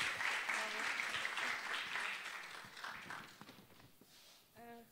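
Applause at a French-language competition for learners of French in Iraq, a crowd clapping moderately for several seconds and then tapering off, with brief voiced sounds near the end.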